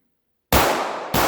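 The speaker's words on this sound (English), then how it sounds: "9 yards is going to draw and fire 3 rounds to the body" Pistol fired at a range from 9 yards, two sharp loud reports after silence, the first ringing out before the second.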